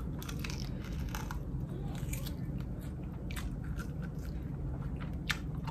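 Someone chewing and biting on a steak bone up close, with steady crunching and gnawing sounds repeating through the whole stretch, fairly loud against a low, constant background rumble.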